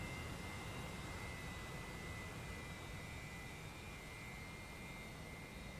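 Jet engine roar of a Su-33 Flanker D carrier fighter during a missed approach in a flight simulator, a steady broadband whoosh with a faint high whine, constant and unbroken throughout.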